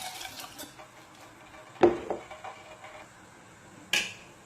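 Rice being stirred in a pot of water: a couple of sharp spoon knocks against the pot amid soft swishing and scraping, close and otherwise quiet.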